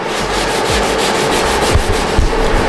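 Steady rhythmic sanding of a BMW E46 car spoiler, a rough scraping rub repeated in quick strokes, close and loud with no talking.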